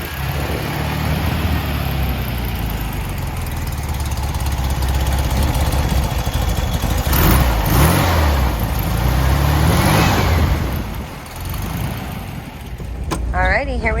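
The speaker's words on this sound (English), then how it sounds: "we'll go ahead and get that engine started up" A freshly restored 1967 Volkswagen Karmann Ghia convertible engine runs steadily with a loud, buzzing air-cooled idle, swelling briefly as it revs; a voice speaks over it near the end.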